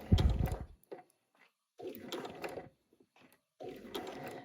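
A sewing machine works a blanket stitch around interfaced heart appliqués, running in three short bursts with pauses between as the presser foot is lifted and the fabric turned.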